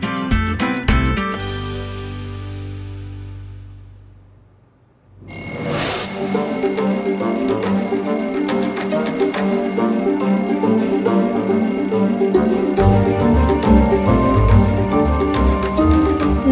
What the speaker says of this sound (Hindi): अरे कोई बंद करो इस अलार्म को।